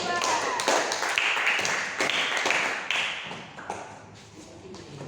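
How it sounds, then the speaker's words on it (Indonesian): Classroom applause for a student group, a burst of scattered hand claps from a room of students that gradually thins and fades, with voices in the background. "Beri dulu tepuk tangan buat kelompok 2."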